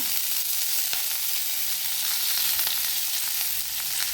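Chopped leaves fry in ghee for a coastal Karnataka tambuli, giving a steady, bright sizzle with faint crackles that runs evenly the whole time, close by and with no talking.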